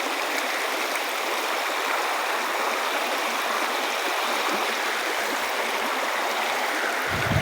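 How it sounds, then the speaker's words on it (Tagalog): A stream of flowing water rushes steadily and fairly loudly throughout, a dense continuous wash with no breaks and no voices. "Lakad-lakad lang tayo sa inaagusan na tong tubig na to."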